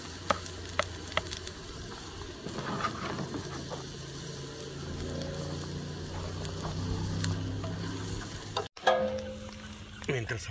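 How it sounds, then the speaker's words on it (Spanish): Onion frying in a pan, giving a steady crackling sizzle with scattered light clicks and clatter, interrupted near the end by a brief scrape and a short gap before the sizzle resumes. "Va la cebollita primero para que se fríe."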